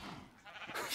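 A Minecraft sheep gives a short, faint bleat, a brief wavering baa within a quiet stretch.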